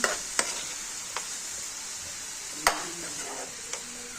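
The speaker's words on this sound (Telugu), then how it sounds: "ఇంకా ఇందులోనే టమాటాలు కూడా వేసేసుకోవాలి. వేసేసుకొని ఒకసారి అయితే బాగా కలుపుకోవాలండి" Tomatoes are stirred into a curry frying in a pan: a steady soft hiss of frying with a few sharp spoon clicks against the metal, close by.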